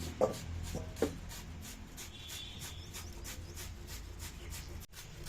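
Raw pumpkin is hand-grated for sweet halwa with steady, rhythmic rasping strokes, close by and fairly quiet.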